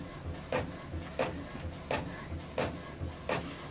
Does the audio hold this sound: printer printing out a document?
yes